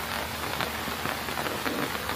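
Heavy rain pours down steadily at a home shrine, a dense constant hiss of drops on surfaces with no talk over it.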